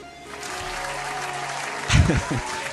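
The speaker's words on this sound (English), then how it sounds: "Need more applause for that." Applause from a small group of people during a casual racing shop-talk show, steady clapping under a lively room with a loud burst of cheering or a voice near the end.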